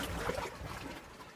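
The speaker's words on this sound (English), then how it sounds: "The water goes under here, which I think makes a nice sound" Water trickles and gurgles through a rocky seaside cave at Cala Sant Vicenç, Mallorca, a faint, echoey burble that is strongest at the start, then softens, with no talking.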